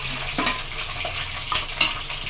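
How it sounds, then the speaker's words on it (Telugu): Chicken pieces sizzle in hot oil in a pan for chicken pickle, a steady close frying hiss broken by a few sharp scrapes and clinks as a utensil stirs the meat, with no talking. "మనం నూనెలా చికెన్ అయితే వేసేసుకున్నాం"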